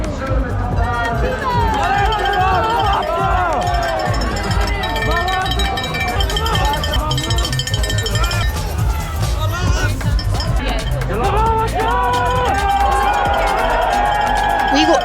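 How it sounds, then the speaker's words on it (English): Spectators cheer and call out along the course at the Zonhoven cyclo-cross race in Belgium as Mathieu van der Poel rides past on the sixth lap, a dense, continuous outdoor crowd noise with mixed voices throughout. "Here comes Mathieu van der Poel on the 6th lap. He's doing really well, and the crowd love him."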